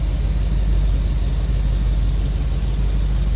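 A 1973 Jeep CJ-5 engine idles steadily nearby with a low, even dual-exhaust rumble and no other sounds.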